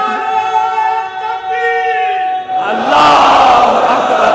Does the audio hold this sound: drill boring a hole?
no